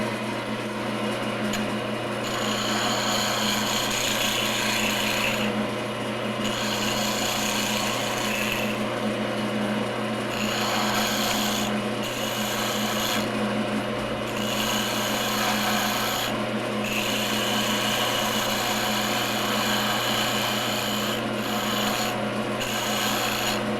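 A power tool cuts down a square wooden piece edge to edge at a bushing, giving a steady rasping, filing grind that runs continuously with brief dips, close and fairly loud, with no talk.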